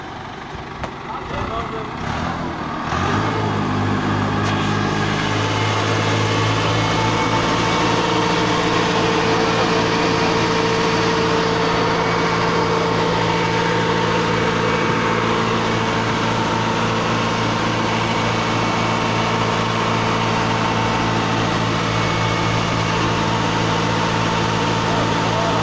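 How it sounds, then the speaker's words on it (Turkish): After a few seconds an engine catches and runs steadily, holding a loud, sustained drone with slight rises in pitch as the throttle is opened, while a voice talks over it. "Gaz ver şimdi."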